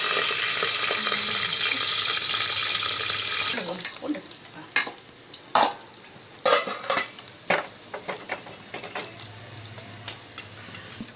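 Cumin, garlic and green chillies fry in a pan for mint chutney, sizzling with a steady loud hiss at first, then giving way to sharp clinks and scrapes of stirring against the pan.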